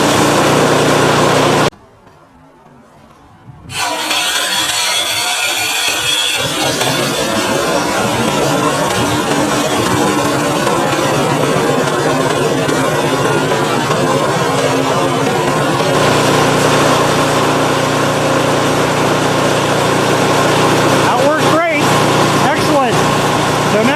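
A PowerSmart 24-inch snowblower engine catches after a short silent gap and settles into a steady, close, buzzy small-engine run, with a few brief dropouts near the end.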